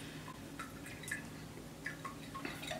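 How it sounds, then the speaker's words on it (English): Fruit juice strained out of fruit for a trifle, heard as soft, scattered drips and trickles of liquid falling into a container, close and quiet, with no talking. "we're going to keep the juice because we're gonna when we make the Jello, we're going to use some of the juice instead of cold water"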